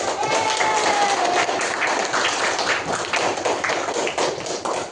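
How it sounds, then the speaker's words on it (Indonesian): Students in a classroom applaud together, a dense, sustained patter of many hands clapping throughout, with faint voices mixed in. "silakan kasih tepuk tangan dong"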